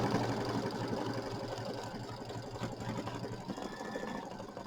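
An embroidery machine sews a triple stitch on a Kimberbell mini quilt near an embroidered leather appliqué, giving a steady, rapid mechanical chatter that runs continuously and close by without talk.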